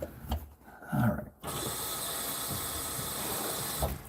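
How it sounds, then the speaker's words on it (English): Water runs steadily from a faucet in a room being painted, a continuous hiss that starts abruptly after some brief knocks and handling noises, then continues at an even level to the end. "I didn't realize I had that faucet on up there."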